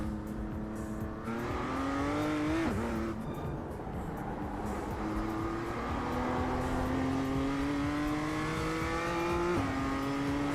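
A BMW race car in a sim-racing game revs hard and climbs through gears, a steady rising engine whine broken by quick shifts, loud and continuous throughout.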